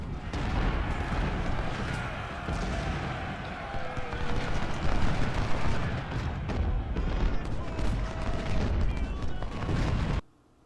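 Cannon booms and rifle volleys roll through a Civil War battle at Seven Pines in Ultimate General Civil War, a dense, continuous rumble of shots and blasts before it cuts off abruptly near the end.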